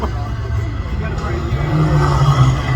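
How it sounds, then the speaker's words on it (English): A flip-flop purple Lamborghini cruises in the SEMA parade, its engine a steady rumble that swells toward the end, with a crowd and an announcer's voice talking over it. "Here we got our buddy in the flip-flop purple Lamborghini"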